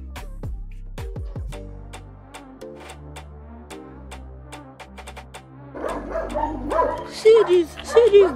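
A dog kept in a firehouse-style kennel barks loudly in a series of sharp, separate barks, then quicker yips and whimpers over music with someone talking near the end.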